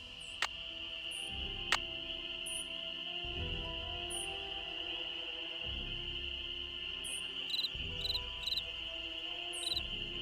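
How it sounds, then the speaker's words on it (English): Night cricket chirps in the Nancy Drew: Ghost Dogs of Moon Lake game, a continuous high trill with scattered sharper chirps, steady and fairly close over a low ambient hum. "Did hear a cricket."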